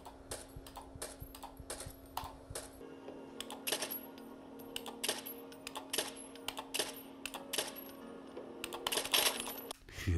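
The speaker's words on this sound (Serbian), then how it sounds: "gledaj kad ću da stisnem klik i kad će da reaguje pucanje" Rapid mouse clicks firing a gun in a video game streamed through GeForce Now, sharp irregular clicks and short bursts over a steady low hum, close and fairly quiet.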